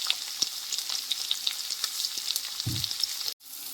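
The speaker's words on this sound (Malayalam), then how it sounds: "വലിയ സവോള അരിഞ്ഞത് ഇതിനകത്തേക്ക് ഇട്ട് കൊടുക്കുന്നുണ്ട്. അപ്പോൾ ഇത് ഇനി ഇതിൽ കിടന്ന് നന്നായിട്ടൊന്ന് വഴന്ന് വരണം." Chopped large onions sizzle steadily as they sauté in a pan for an egg roast, a continuous close frying hiss with light scattered crackles and one brief low bump of the pan near the end.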